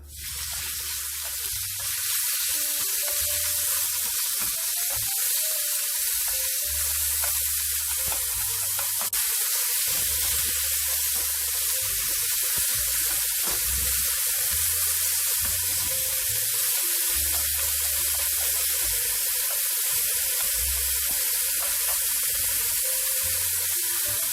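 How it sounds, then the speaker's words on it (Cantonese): Bacon fries in a pan with a loud, continuous hiss that barely changes throughout, over a low, pulsing rumble. "爆一爆呢個煙肉。"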